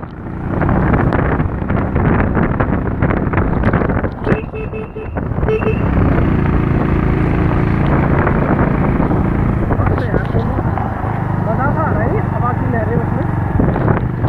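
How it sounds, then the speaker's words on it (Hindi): Wind roaring across the microphone on a Garhwal mountain road in Uttarakhand, a loud, dense, continuous rumble that briefly dips in the middle, with someone speaking beneath it. "हवा की लहरें, ठंडी ठंडी हवा"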